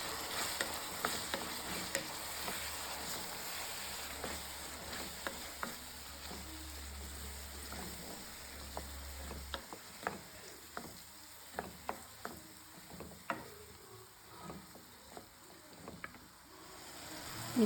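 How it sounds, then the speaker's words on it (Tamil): Ground tomato paste sautéing in oil in a pan for a sardine fish curry, a steady soft sizzle at close range with frequent sharp scraping taps of a ladle stirring. A low hum runs through the middle. "இது நல்லா எண்ணெயிலே வதங்கட்டும்."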